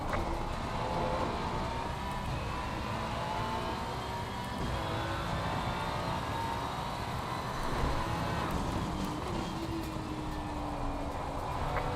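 GT race car engine droning steadily in Assetto Corsa Competizione at Brands Hatch during an endurance race, a continuous roar with gentle pitch shifts through gear changes and corners, no talk over it.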